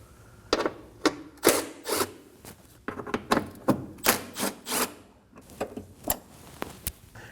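A 10mm socket ratchet removes the bolts holding the windshield washer reservoir on a 2014-2024 Nissan Armada, with irregular bursts of close, crisp clicking and scraping separated by short pauses.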